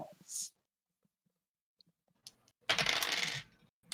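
Dice are rolled in a tabletop D&D game, clattering and tumbling on a hard surface for about a second, with a few small clicks before and a faint voice at the start.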